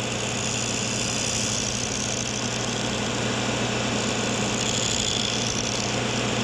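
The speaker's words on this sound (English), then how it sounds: "Start the sander. And we'll round the corner off." A power sander runs steadily while rounding off the corner of a workpiece in a high school shop. A constant, loud motor drone with a humming undertone and a faint high grinding edge continues for the whole stretch without a pause.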